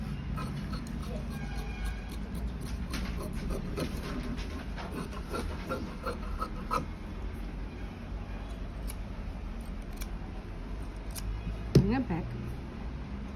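Scissors cut the back piece of a blouse from fabric, making a series of soft, scattered snips and clicks close by, with a low voice in the background.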